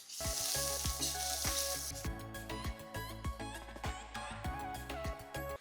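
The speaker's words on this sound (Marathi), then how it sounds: "मोहरी फुटल्यावर त्यामध्ये बारीक चिरलेला कांदा आणि हा मधला बटाट्यांचा पोखरलेला भाग होता तो सुद्धा आपण बारीक चिरून घेतला ह्यांना छान परतून घ्यायचा" Finely chopped onion and scooped-out potato frying in oil after mustard seeds, for a sesame-potato dish: a bright hiss strongest at the start, with tonal background music and scattered clinks throughout.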